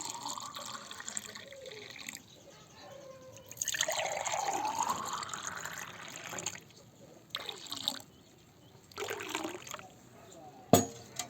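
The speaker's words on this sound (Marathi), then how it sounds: "कैरीचं सरबत आता आपलं तयार आहे. तर ते आता आपण ग्लासात ओतूया." Raw mango sharbat pours into a glass in a soft, trickling stream whose pitch climbs as the glass fills, with shorter splashy pours afterward and a voice speaking in between.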